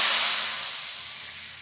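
Fried tempering of curry leaves, dried red chillies, onions and turmeric poured into tamarind Malabar spinach dal, giving a loud, close burst of hissing sizzle that fades steadily over under two seconds.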